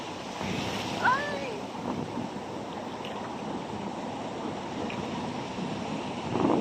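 Sea waves washing in at a beach, a continuous rushing wash with wind buffeting the microphone and a brief splash near the end, with no voices over it.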